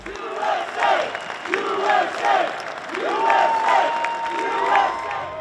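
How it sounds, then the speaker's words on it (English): A crowd in Lake Placid chants "USA" in a steady repeating rhythm, about six loud rising calls echoing with cheers and whoops between them. "the crowd yelled the USA chant"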